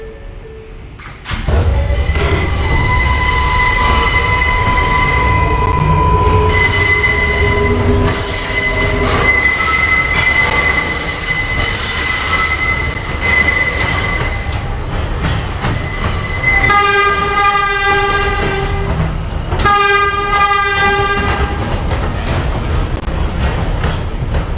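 A Bronx-bound New York City 4 subway train rumbles loudly along the track, its wheels squealing in long, piercing bursts that rise and fall, with a strong steady roar underneath and no talking.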